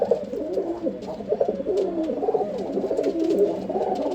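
Low, burbling coos from a male pigeon repeat in a continuous rolling pattern, nearby and moderately loud.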